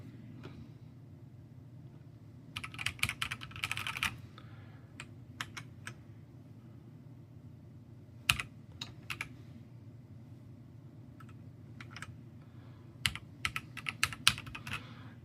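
Keys on a Keychron C3 Pro computer keyboard clatter in scattered bursts and single taps, crisp and close, over a low steady background hum.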